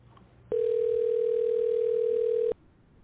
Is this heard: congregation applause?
no